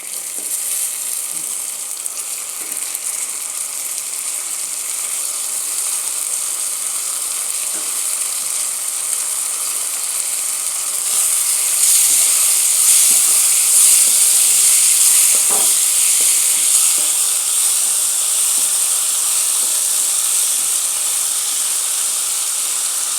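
Prawns frying in hot oil over a sautéed masala for prawn gravy give off a continuous, close sizzle that holds steady throughout and grows slightly brighter and louder partway through, with no talking.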